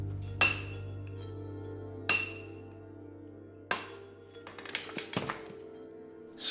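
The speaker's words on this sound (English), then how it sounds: "The smaller clogs are docked using a hammer and chisel." Sharp metallic hammer strikes on a chisel docking small slate clogs, three distinct ringing blows a second or so apart, then a cluster of lighter quick taps and clinks, close and clear against a low steady hum.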